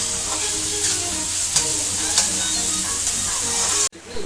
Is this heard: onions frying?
yes